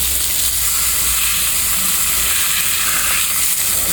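New York steak sizzles loudly in a hot pan on an induction stove, a steady, dense frying hiss that holds close and even throughout with no talk.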